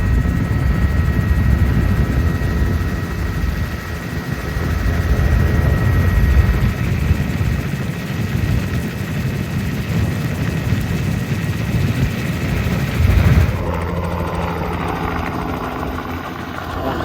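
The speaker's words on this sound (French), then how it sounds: "On vient de revenir, ça c'est notre hélicoptère" Hummingbird tour helicopter over Manhattan, its loud steady rotor and engine drone continuous and near, with a brief rise before the sound changes near the end.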